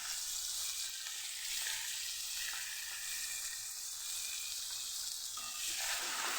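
Crushed chili, garlic and ginger sizzle steadily in hot oil in a pan, a constant bright frying hiss with no talking.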